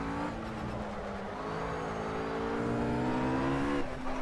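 Ruf RGT-8 GT3 race car in Project CARS at Silverstone GP, engine droning and rising in pitch with a steady whirring, spinning-wheel tone, loud and close throughout with no talking.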